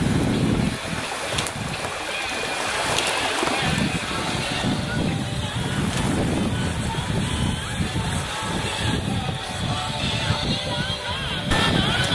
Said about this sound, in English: The winds have picked up, probably about 10 knots, I'm guessing.